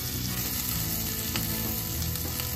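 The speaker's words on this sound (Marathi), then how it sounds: "त्याच्यात मी अद्रक लसणाची पेस्ट घालून घेते" Ginger garlic paste sizzles in hot oil with butter, a dense, continuous crackle and hiss heard up close, with no speech.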